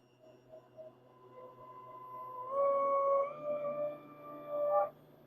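A Vitamix AER blender frothing a frappé makes a thin, rising wheeze of whirring air that swells and holds, then cuts off sharply after about five seconds; no voices.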